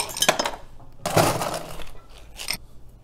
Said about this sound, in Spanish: Ahora colocamos mucho hielo.